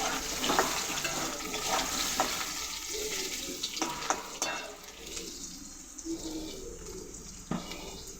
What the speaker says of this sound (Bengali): দেখো আলুগুলো লাল লাল করে ভাজা হয়ে গেছে।